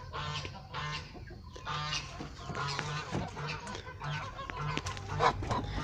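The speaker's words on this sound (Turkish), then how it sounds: "Şöyle kazlarımıza da bakalım." Geese honk repeatedly in a backyard poultry yard, loud close calls overlapping one another in a busy, nearly continuous chorus.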